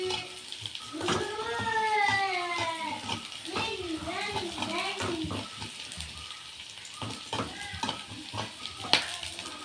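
Onion, green chili and garlic fry and are stirred in a pan, making a soft ongoing sizzle with scraping strokes while a voice talks over it for much of the time.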